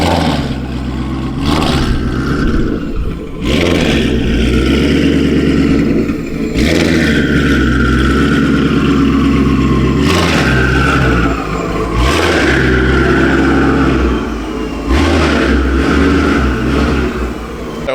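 Twin-turbo 2024 Ford Mustang S650 with a Corsa Active exhaust, revving in repeated loud, deep swells that rise and fall over a constant low rumble, close by with no talking.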